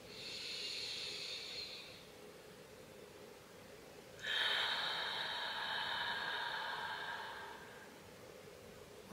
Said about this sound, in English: we will start with 3 deep breaths together